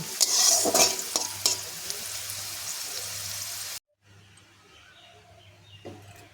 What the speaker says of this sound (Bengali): দেখো লাল লাল করে ভেজে নিয়েছি উচ্ছেগুলো। এবার আমি তুলে নেব।